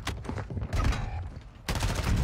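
Sniper rifle shots in a first-person shooter game crack out in sharp, loud bursts, with a rapid cluster of several shots followed by another sudden blast after a brief lull.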